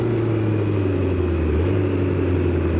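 A Ford Mustang's engine, brought to life by remote start, runs as a steady, close, low rumbling hum with no break, and no voices over it.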